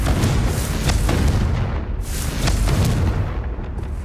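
A Confringo spell blasts in the video game Hogwarts Legacy, producing loud, deep booming explosions that roll and rumble continuously, with a second blast swelling near the middle of the burst.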